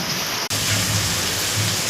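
Wind and rain just outside, a close, steady rushing hiss of falling water broken by one brief dropout, with no voices.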